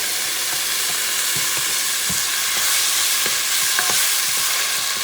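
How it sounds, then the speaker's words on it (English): Tomato sauce with little chunks of tomato goes into a hot pan for a short rib beef stew, a loud steady sizzle with light stirring clicks and scrapes, no talk. "you're going to add the tomato sauce, including the little chunks of tomato"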